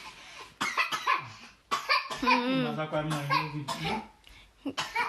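A child coughs in short bursts amid talking and some laughter, the coughs close and fairly loud between the voices.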